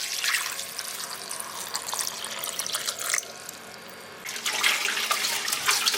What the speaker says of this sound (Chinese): 这个黄花菜买的是干的，咱用水给它泡开